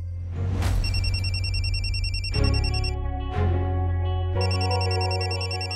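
A telephone bell rings loudly in repeated bursts with brief gaps between them, clear and close, with no voices.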